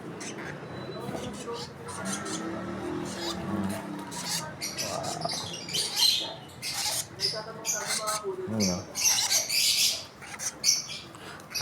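Hand-fed baby birds chirp and squawk in rapid, shrill bursts close by, growing busier toward the end, while a person talks over them.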